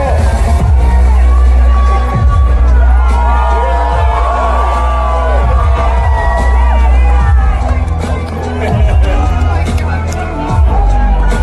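A packed CPAC conference crowd roars with sustained cheering, whoops and yells, a dense wall of voices close and loud throughout, with shouted calls rising above the din.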